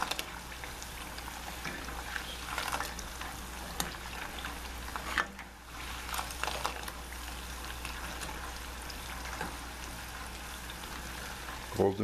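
Plantain slices for tostones frying in hot oil, a faint steady sizzle and bubbling crackle that continues quietly throughout.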